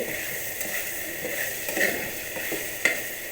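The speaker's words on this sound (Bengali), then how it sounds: "ভালো করে কষাচ্ছি" Chicken sautés with poppy seed and coconut milk in a pan, giving a low, even sizzle with faint occasional scrapes and one small clink, fairly quiet and steady throughout.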